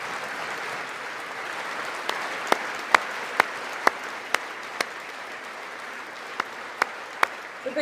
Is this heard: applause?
yes